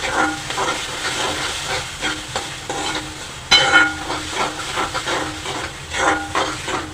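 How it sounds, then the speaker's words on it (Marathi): Ground masala paste is added to fried onion and tomato and stirred in a hot pan for a Malvani broad bean gravy, giving a continuous close hiss and sizzle broken by rhythmic scraping of the spoon, with no talking. "कांदा आणि टोमॅटो भाजल्यानंतर हे वाटलेलं वाटप घाला एक चमचा छानपैकी परतून घ्या"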